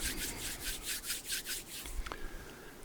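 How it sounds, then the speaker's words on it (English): Hands rubbed together briskly, about eight rhythmic swishing strokes at close range, then stopping with a faint soft tap afterward, no voices. "We rub our hands together briskly."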